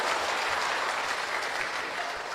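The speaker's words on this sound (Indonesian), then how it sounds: "Tepuk tangan dulu kasih bapak-bapak." A church congregation applauds during a sermon: steady, dense clapping from many people, held at an even level for the whole stretch, with no talking over it.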